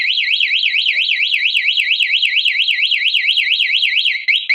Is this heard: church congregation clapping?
no